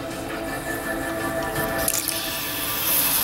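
Water poured onto quicklime (calcium oxide) in an intense exothermic reaction gives a steady, close hiss of bubbling and dripping that grows slightly louder near the end, with no talking.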